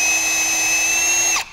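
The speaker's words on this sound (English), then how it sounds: "let's intentionally put our drill bit in a little offset" Power drill running with its bit chucked slightly off-center, a loud, steady whine with a strong tonal hum close by that holds evenly, then spins down and cuts off near the end.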